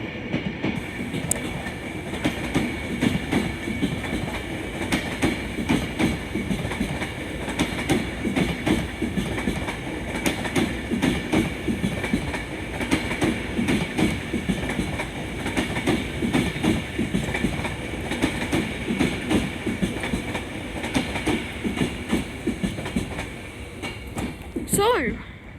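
An Avanti West Coast train, a London Euston to Preston service on the West Coast Main Line, passes through Crewe station with a steady loud rumble and rail clatter throughout, ending near the close.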